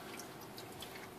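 Faint, steady trickle of water flowing back into a bucket from copper tubing in a homemade refrigeration build, a soft continuous wash with a few light drips.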